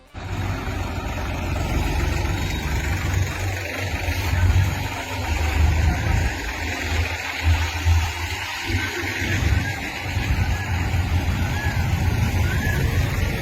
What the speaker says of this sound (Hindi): राजस्थान के बाड़मेर के गुड़ा मालानी में 51 ट्रैक्टरों पर बारात निकली।